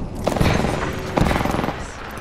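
Frag grenade explosion amid video game gunfire, with two sharp loud bursts about a second apart over a continuous rattle of shooting and faint talk.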